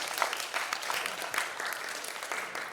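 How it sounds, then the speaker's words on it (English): An audience at a sales motivation and skills training session gives moderate applause, a steady patter of many hands clapping at middling volume with a few sharper claps standing out. "Round of applause"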